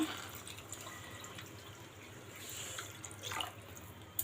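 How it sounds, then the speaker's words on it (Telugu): Water pours steadily into a pot of rice, four glasses of water for two of rice, for mint rice, a continuous close splashing trickle with no talking. "నేను రెండు గ్లాసులు బియ్యానికి నాలుగు గ్లాసులు వాటర్ వేస్తున్నాను"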